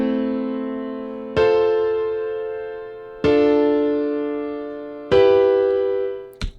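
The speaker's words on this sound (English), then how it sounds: "And right now you have triad chords who sound like this." Sustained synthesized triad chords in a music production program, four chords each struck and held about two seconds with a slow fade, bright and close, no voices.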